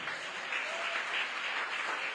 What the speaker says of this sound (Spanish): Denle un aplauso fuerte a Dios por eso.